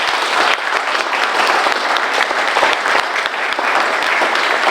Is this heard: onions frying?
no